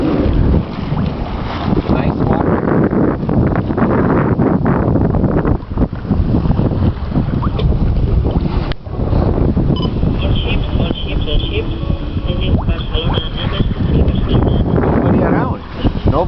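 Steady roar of wind buffeting the microphone over a sailboat cutting through water on the way to Tarragona, with a faint tonal whine in the background and muffled voices at times.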